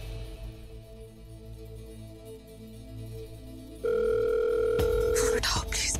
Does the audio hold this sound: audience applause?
no